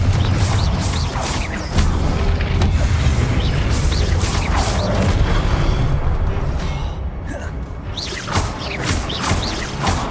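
Repeated booming blasts from the Confringo fire spell in Hogwarts Legacy, heavy bursts of crashing noise landing in close succession, loud and dense throughout with brief dips between hits.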